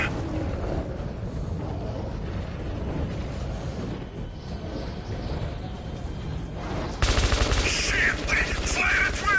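Gunfire in the video game Metro Redux, dense continuous bursts of shooting under a loud battle din, growing harsher and louder toward the end, with voices shouting in the background.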